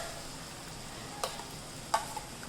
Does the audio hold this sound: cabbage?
yes